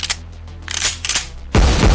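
A pump-action shotgun fires a load of pellets at a target nine meters away, giving one loud, close blast with a heavy booming tail after a quieter stretch of faint mechanical noise.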